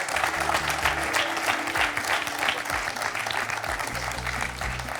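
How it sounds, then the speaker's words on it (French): Studio audience applause for a contestant on a French television quiz show, sustained, dense clapping with a low hum of background sound running beneath it. "On peut applaudir Antoine et ses 2 points"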